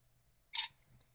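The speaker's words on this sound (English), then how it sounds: "So you still have that loud shutter sound." A single loud, crisp camera shutter click from a Nexus S phone running Android 4.2.1, heard close and alone with a brief trailing tick and silence around it.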